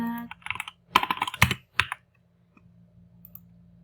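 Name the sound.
typing on a computer keyboard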